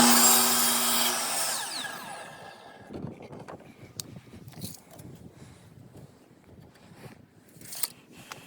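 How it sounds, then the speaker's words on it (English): A miter saw cuts a 2x4 board at a 40-degree angle, giving a loud whining blade burst that winds down over two seconds, followed by quieter scraping and handling clatter of the wood. "Let's go over the miter saw, and we're going to start making a lot of these cuts at this 40-degree angle and 15 inches long."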